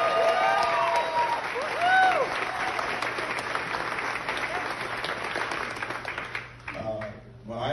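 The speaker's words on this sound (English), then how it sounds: "Let's give her a huge round of applause." Loud applause from a large gala audience, steady clapping with some cheering and voices mixed in, tapering off near the end.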